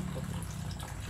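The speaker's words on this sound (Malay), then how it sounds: "Isikan dengan air." Water running steadily into a sprayer tank in a rice paddy, a faint, continuous gushing fill with no talking.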